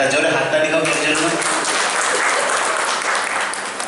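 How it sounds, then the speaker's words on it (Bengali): An audience at a Rabindra Jayanti celebration claps after a poem recitation: dense, loud, sustained applause from a crowd, tapering slightly toward the end. "একটা জোরে হাততালি হোক এর জন্য"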